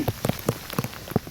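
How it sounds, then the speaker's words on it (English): Rain falling on a hiker walking along a road on the Ouachita Trail, heard close as scattered sharp drops and taps in an uneven patter, with no talk. "The rain's coming down good now."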